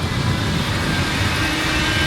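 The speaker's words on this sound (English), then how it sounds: "Also back up and running is the park's classic car ride." Gas-powered antique cars on an original amusement park classic car ride rumble steadily nearby, a continuous engine drone with no pauses.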